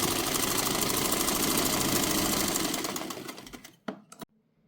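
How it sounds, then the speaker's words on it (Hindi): A sewing machine stitches fabric for a gathered Anarkali frock with a fast, steady mechanical whir. The whir winds down and stops near the end, followed by a couple of brief clicks. "इसको थोड़ा थोड़ा करके सेट करते रहेंगे और इस पे ऐसे सिलाई लगाते रहेंगे।"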